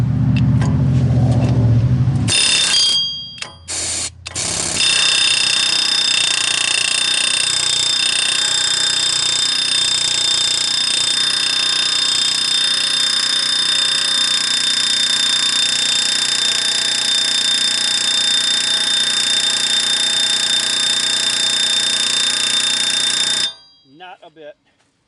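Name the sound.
air hammer on a Chrysler Town and Country wheel bearing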